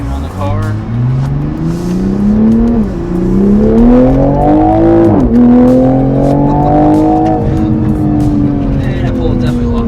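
A 2020 Toyota Supra with a Power Plug tune on 100 octane revs and accelerates hard, its loud engine note climbing through several gear pulls with brief drops between shifts, close to the microphone.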